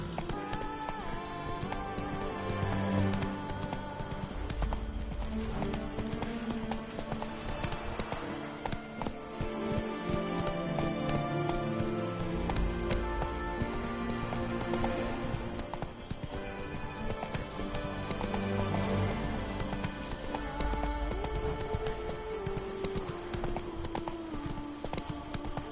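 Horse hooves gallop in The Witcher video game, a steady, loud clip-clop rhythm running the whole time with an occasional whinny over continuous game background sound.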